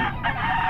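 A rooster's crow, loud and close, a single sustained call cut short.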